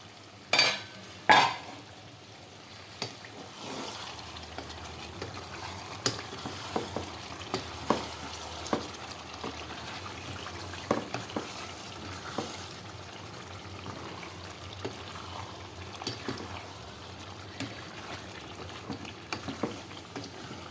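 Ginger, onion, bay leaves, a few cardamom pods, cloves and cinnamon fry in hot oil, giving a low steady sizzle punctuated by sharp clinks and scrapes of a spoon stirring the pan, louder bursts near the start.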